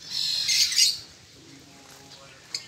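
Bright, rapid chirps and tweets from caged birds on a farm cluster loudly at first, then fade to quieter background calls with one sharp chirp near the end.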